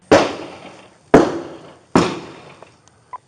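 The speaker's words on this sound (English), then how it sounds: "Shooting out the rear window toward my direction." Gunshots fired out of a car's rear window, three sharp, loud reports spaced about a second apart, each trailing off in a short decaying echo, with no voices.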